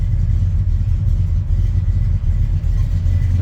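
A 1971 Chevrolet C20 pickup engine rumbles loudly and steadily up close after a cold start, revving with a dense low clattering roar that holds throughout, no talking.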